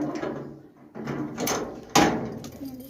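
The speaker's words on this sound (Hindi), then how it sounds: "दरवाज़ा भी खुल गया" Household door being opened: a few short mechanical knocks and sliding clatters, ending in a sharp latch clack, close by in a quiet room.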